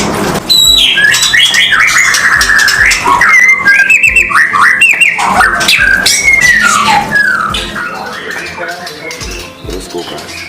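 Loud, varied white-rumped shama song with rich whistles, trills and rapid phrase changes, sung continuously up close over a faint background.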